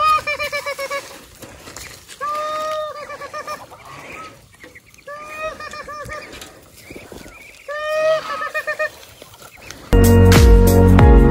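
Several ducks on a farm honk and quack in bursts, fairly close, with brief pauses between calls, ending in a loud broadband rush of noise.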